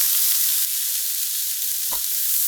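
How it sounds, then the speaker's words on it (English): Vegetables with a pinch of salt sizzle in a pan over medium-high heat, a steady close hiss with one brief clack of a stirring utensil partway through, no speech. "A little stir."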